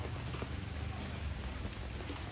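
Rain falls steadily onto a box, making a dense, even hiss with no breaks, close and moderately loud throughout.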